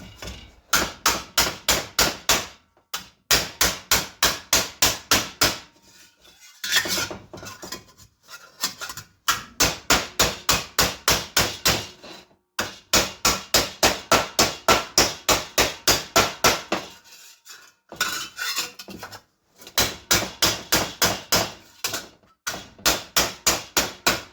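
Rapid, evenly spaced hammer blows ring on sheet metal from a washing machine, shaped into a cap, in bursts of a dozen or more strikes, separated by short pauses.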